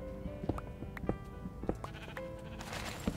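Sheep in the video game Minecraft bleat repeatedly, several short wavering baa calls at irregular intervals, fairly close and clear, with a brighter burst of game noise near the end.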